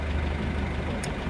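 A sailboat's inboard engine runs steadily on calm water with no wind, a low, even drone that holds constant throughout, with a brief faint high click near the end.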